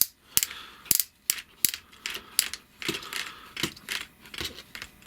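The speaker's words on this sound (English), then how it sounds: "That ratchet seems messed up." Ratchet joints on a metallic DX9 Carry transformable robot toy clicking through a quick series of sharp, close plastic ticks and clacks in irregular bursts, with no voices.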